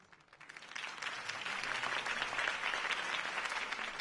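A video game crowd applauds after a campaign speech, the clapping swelling up from quiet within the first second into a dense, sustained ovation with no voices over it.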